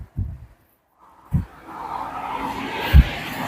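A car swishes past on a nearby road, its tire and engine noise swelling then fading, with a couple of thumps.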